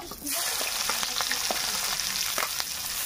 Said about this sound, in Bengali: শুকনো লঙ্কা পাঁচ ফোড়ন দিয়ে নাড়াচাড়া করে ভেজে রাখা পেঁয়াজটা দিয়ে দিচ্ছি